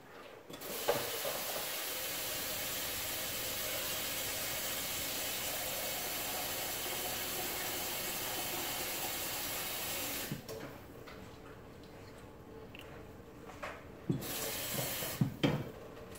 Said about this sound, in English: I'm going to fill it up with water now.